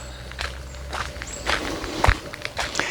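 Footsteps crunch along outdoors through a village into a rice field at a steady walking pace, fairly close, with faint birdsong and ambient noise in the background.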